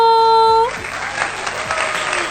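Loud applause breaks out after a sustained tonal note cuts off, many hands clapping steadily for a couple of seconds.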